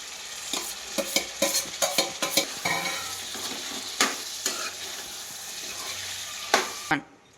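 Chicken fry with curry leaves and onions being stirred in a pan, a steady sizzle broken by repeated scraping strokes of the spoon, close and fairly loud, ending abruptly.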